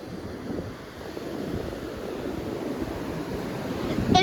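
Ocean surf at high tide, stirred up by a passing boat from the inlet, rolls and washes steadily at a beach, with wind buffeting the microphone and the surge building toward the end.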